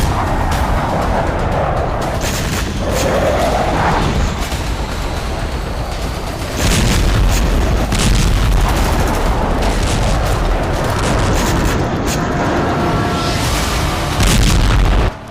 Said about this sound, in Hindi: जोरदार धमाके के साथ आसमान में तेजी से उठता बारूद से सने धुएं और